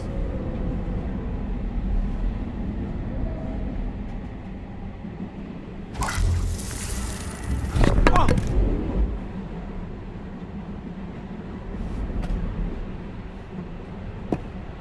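Train in motion from the video game Beyond: Two Souls: a steady low rumble throughout, broken midway by a loud broadband rush and clatter lasting a couple of seconds, with no talking.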